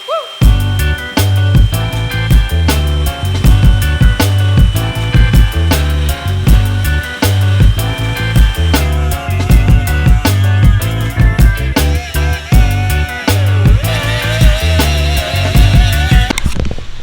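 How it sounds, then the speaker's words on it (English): A power tool whines at high speed as a wire wheel grinds rust off the body of a Mazda FC RX-7, loud and continuous with rhythmic surges, no voices. "it'll just easier to get away with a wire wheel before we even start sanding paint down"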